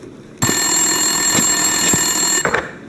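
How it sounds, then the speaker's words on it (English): A telephone rings on an office desk in the video game Max Payne 2: one steady electronic trill of about two seconds, loud and close, cutting off abruptly. "Winterson's phone was ringing."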